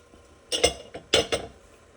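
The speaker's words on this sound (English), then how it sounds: "trying to just get a little scrape on that stuff on the sides" A cooking utensil scrapes runny lemon chicken from the sides of a pan, giving a few clinking metallic strokes in two pairs, close and clear against a quiet kitchen.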